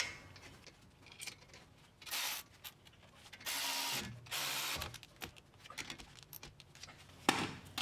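Caliper guide pin bolts on a 2017–2019 Chevrolet Cruze are tightened with a 14mm tool, giving several short bursts of whirring and ratcheting that stop and start, close and fairly quiet, with clicks between them.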